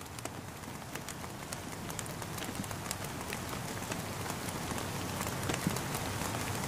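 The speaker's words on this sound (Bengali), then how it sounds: "বোটে ফেরার সময় আমরা বৃষ্টির সম্মুখীন হই" Steady rain patters down dense and even on the return to a boat on Tanguar Haor, a constant wash of drops with no voices.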